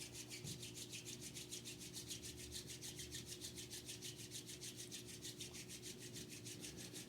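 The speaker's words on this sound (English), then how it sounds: "a little rub of the palms" Hands rubbing palms together in a quiet practice setting, a steady rapid rhythmic swishing friction, close and soft, with no talk.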